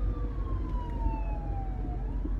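A siren wails nearby, its pitch sliding steadily downward as it passes, then rising again over a low traffic rumble.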